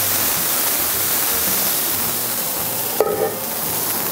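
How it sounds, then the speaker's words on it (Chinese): Water pours into a hot frying pan with stir-fried mushrooms, producing a loud, continuous hiss and sizzle that ends with a short clank near the end. "再来就是水进来"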